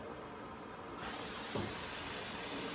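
A steady, broad hiss from a wallpaper steamer on wallpaper over drywall runs throughout, brightening after a moment and holding constant, close and fairly soft.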